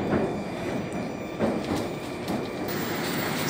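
A Moscow metro train rumbles along underground, a steady, loud roar of wheels and car noise with faint rhythmic clacks throughout.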